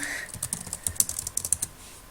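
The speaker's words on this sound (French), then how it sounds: "Donc on tape Abo et pas Aboz." Rapid clicks from a computer keyboard, a short burst of quick close keystrokes that stops after under two seconds.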